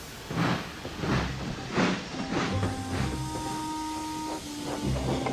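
A cartoon steam engine, Thomas the Tank Engine, chuffs in steady rhythmic bursts with breathy steam hiss, and a short low toot sounds partway through.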